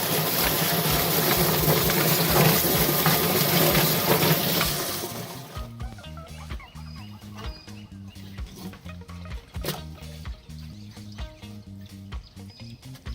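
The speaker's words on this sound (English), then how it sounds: "Constantly put water on them while they're in the plucker" Rushing water pours loudly for a few seconds into a running chicken plucker holding Cornish Cross meat chickens, then stops, leaving the machine rattling and thumping rhythmically on its own.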